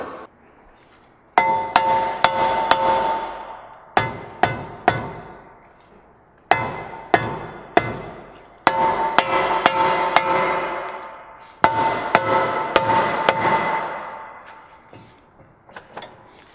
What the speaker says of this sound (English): hit the brake rotor with a rubber mallet or some sort of hammer to break it loose